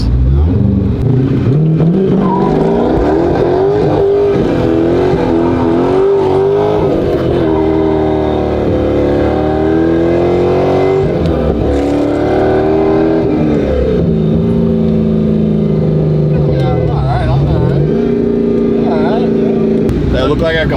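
A drift race car engine revs loudly and continuously on a ride, its pitch climbing and falling through repeated throttle blips while voices talk over it.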